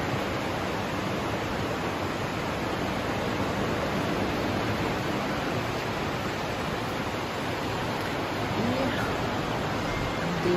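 Grey, misty sea off the Crimean coast on a wet autumn day, a steady broadband roar of surf that stays even and unbroken for the whole stretch, fairly loud and with no voices.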